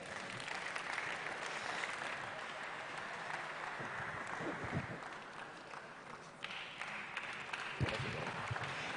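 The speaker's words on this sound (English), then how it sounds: "A round of applause for him." A seated audience at a university road show event applauds a speaker, sustained clapping from many hands across the whole stretch, fairly even in level with a few sharper claps standing out.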